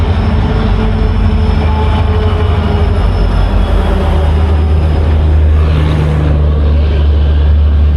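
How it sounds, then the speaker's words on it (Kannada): Loud, heavy rumble of a train rolling into a station, a constant low roar with faint screeching, running unbroken throughout. "ಟ್ರೈನ್ ಬಂತು"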